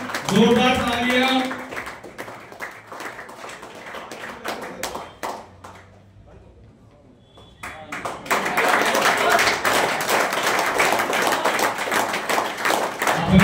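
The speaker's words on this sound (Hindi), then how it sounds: "जोरदार तालियां" Audience applause at an annual school function and award ceremony, with rapid, dense hand clapping that fades into a quieter stretch of scattered claps before swelling again into loud sustained clapping, with a voice talking over the start.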